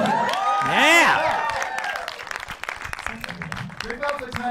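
A studio audience claps and whoops for a celebrity guest, a short, moderately loud burst mixed with excited voices and a shout over the top.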